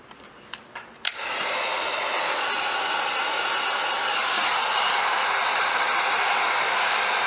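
Heat tool blowing hot air onto material at the base of a cut, a few faint clicks first, then a steady loud roaring whoosh that starts abruptly and holds without pause.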